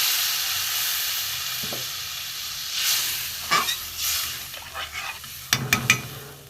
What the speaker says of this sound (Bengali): এবার আমি জল দিয়ে দেবো, কষানো হয়ে গেছে তরকারিটা।